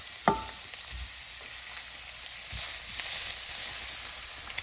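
Garlic and shallots hitting warm oil in a pan for pad thai, a steady close sizzle with a sharp knock near the start and a few spatula scrapes, swelling slightly toward the end, with no talking.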